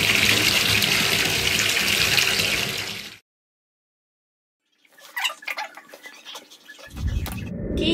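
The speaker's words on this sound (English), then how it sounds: "let's go ahead and get this baby's water running" Tap water runs loudly and steadily into a baby's bath for about three seconds, then stops; after a silent gap come faint clinks and handling sounds, followed by a low rumble.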